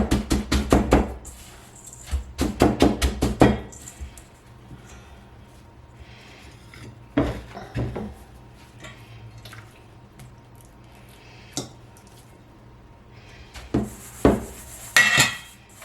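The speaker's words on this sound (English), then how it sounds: "I'm breading the last veal cutlet" Veal cutlets being pressed and turned in breadcrumbs, with bursts of crisp rustling and patting taps in clusters, then quieter gaps between occasional handling sounds, close by.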